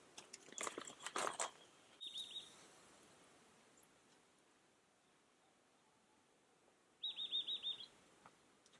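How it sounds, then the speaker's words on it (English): A nuthatch gives two short bursts of rapid, piping calls outdoors on a small homestead, close and clear, separated by quiet with faint rustling at the start. "A very noisy bird. What bird do you reckon that is? It's a nuthatch."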